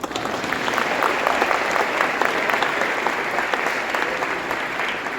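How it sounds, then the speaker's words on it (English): Sustained, dense applause from a large crowd, steady and loud throughout with no pauses. "Give them a big round of applause"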